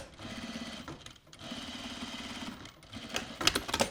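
Sewing machine top stitching a sleeve placket, a steady close mechanical whir in short runs separated by brief pauses, with small clicks and handling noise toward the end.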